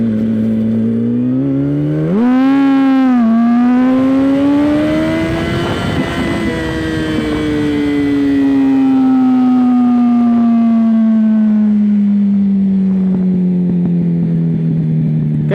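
A Yamaha R1 motorcycle with a Two Brothers exhaust revs loud and close, the engine pitch sweeping up sharply, holding, then slowly winding down in a long sustained roar with no talking.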